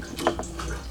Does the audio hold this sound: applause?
no